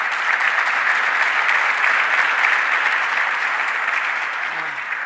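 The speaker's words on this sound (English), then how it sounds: "let's give a round of applause to Mayor Malik Evans" Sustained, dense applause from a crowd honoring Mayor Malik Evans at a public event in Rochester, even and full for about five seconds with a hint of a voice near the end.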